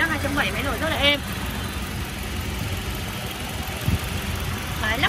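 A 2009 seven-seat 2.7-litre petrol SUV engine idles smoothly and steadily at close range under a salesperson's running commentary.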